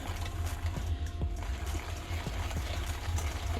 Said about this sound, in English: we are going to pour our milk mixture into the egg white mixture